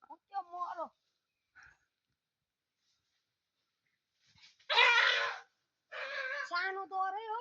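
A dog hurt in a fight whimpers and whines in short, high, wavering bursts separated by silent gaps, with a louder, rougher cry near the end.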